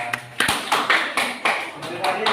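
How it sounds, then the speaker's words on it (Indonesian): A classroom group claps for a student team in a quick rhythmic pattern, with sharp, close, evenly spaced hand strikes and voices mixed underneath. "Tepuk tangan sekali lagi buat kelompok 3 yuk"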